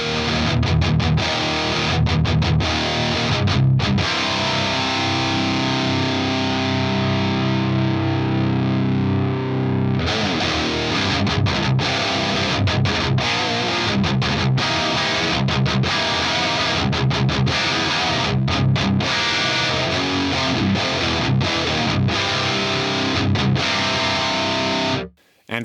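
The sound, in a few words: distorted electric guitar through Fractal AX8 Rectifier amp model, 85 Hz low resonance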